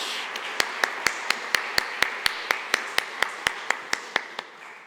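Clapping at a closing session of the 5th Baltic MSP Forum, heard as a steady run of evenly spaced sharp claps, close and distinct, fading out at the end.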